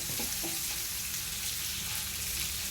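Fish frying in a pan and being flipped, with a dense, loud, close sizzle and a couple of brief soft clinks near the start.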